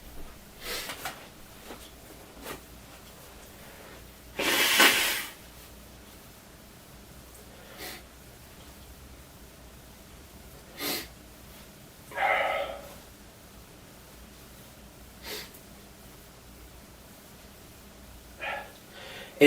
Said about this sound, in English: I'm going to blow my nose real quick.